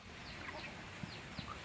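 Faint, distant clucks from a chicken come in a few short bursts over a constant hissing background noise.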